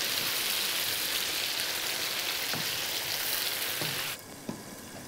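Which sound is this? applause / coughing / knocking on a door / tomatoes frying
tomatoes frying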